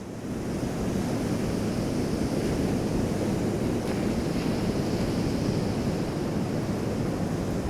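Steady, enveloping water ambience fills a flooded room in a haunted PS1-style horror game, a continuous low rushing wash like surf or wind, even and unbroken throughout with no voices.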